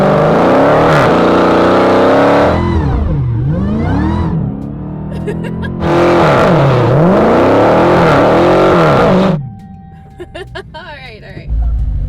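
Dodge Hellcat Redeye or Camaro ZL1 1LE under hard acceleration, loud engine roar sweeping up and down through shifts in two long bursts, then cutting to quieter idle and rustling near the end.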